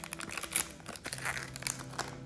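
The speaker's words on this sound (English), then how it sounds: "So let's remove this foil." Protective foil is peeled off a new HP DeskJet ink cartridge, a close, quiet crinkling and tearing rustle in short bursts over about two seconds.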